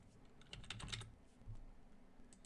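Typing on a computer keyboard: a quick, close run of soft key clicks entering Java code, steady and faint with no talk.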